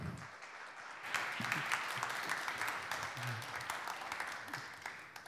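An audience applauds to welcome CEO Ma Young-min of Next Elevation at a startup demo day, the clapping swelling after a quiet moment into steady, dense applause that fills the room.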